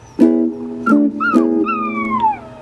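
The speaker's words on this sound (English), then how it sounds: "Them little puppies." Puppies whimpering and yipping in a few short rising cries, with one longer drawn-out whine at the end, close and fairly loud with no talking.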